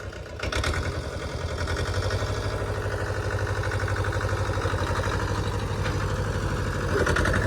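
A Mahindra 245 JIVO tractor engine runs with a steady, close diesel chug, rising slightly in revs toward the end after a brief start, loud and continuous with no talk.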